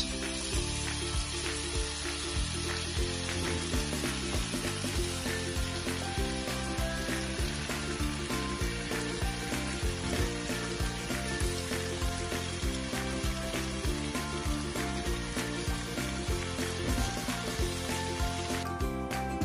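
Chicken doner kebab pieces frying in a pan over a low flame, giving a steady, close sizzle that carries on throughout without pause.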